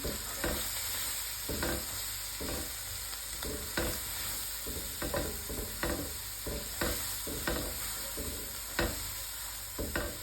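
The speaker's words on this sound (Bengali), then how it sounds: "একসাথে একটু কষাই নিই" Spices and chicken giblets sauté in a pan, a continuous soft sizzle broken by regular scraping strokes of a spatula stirring the mix, fairly quiet and steady with no voices.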